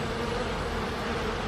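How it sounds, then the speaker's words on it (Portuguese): Giant monstrous bees in a cartoon make a dense, steady buzzing drone that fills the short moment at moderate level, with no voices. "Afinal, elas não passam de pequenas abelhas"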